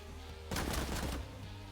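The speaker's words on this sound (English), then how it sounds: "You're definitely hearing all the gunfire." A brief burst of rapid gunfire crackles for under a second over a low background hum, game audio from the video game Cyber Knights: Flashpoint.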